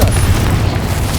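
A Confringo spell blast from the Hogwarts Legacy video game lands as a loud, sustained booming explosion with a deep rumbling body that holds steady across the moment.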